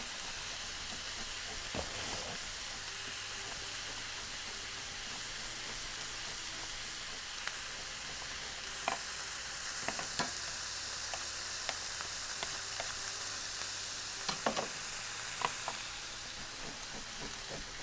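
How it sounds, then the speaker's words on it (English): Onions fry in a pan with a soft, continuous sizzle and hiss, with occasional faint clicks and utensil taps, fairly quiet and steady, no talking. "while the onions are cooking"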